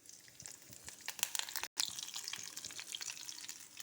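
Mustard seeds and urad dal tempering in hot oil sizzle and crackle close up, a busy spattering hiss with sharp popping bursts and a brief stir.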